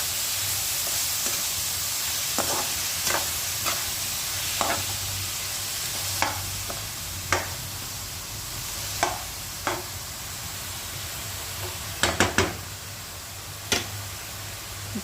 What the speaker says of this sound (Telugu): ఉల్లిపాయలు ఇలా వేగుతున్నాయి కదా